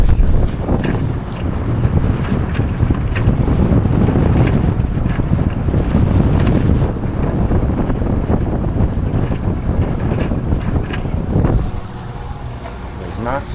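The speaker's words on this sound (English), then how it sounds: "This Tampa Bay nonsense, it is incredibly rough. See, the winds are 14 knots." Strong 14-knot wind buffets a small boat on rough Tampa Bay, a loud continuous roar of wind across the microphone with engine rumble and splashing water beneath, easing slightly near the end.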